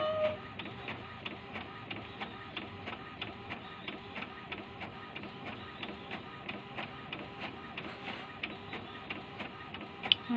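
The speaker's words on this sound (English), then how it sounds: "It's already printing." An office printer runs steadily through a page, its feed mechanism whirring with a regular ticking rhythm that stays close and even for the whole stretch, then ends on a sharper clunk.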